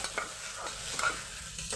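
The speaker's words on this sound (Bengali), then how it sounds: "এই অল্প তেলের মধ্যে এইভাবে ভাজাটা হচ্ছে" Onions fry in a little oil for a mutton and potato curry, sizzling steadily up close while a utensil scrapes and stirs through them in repeated strokes, with no talking.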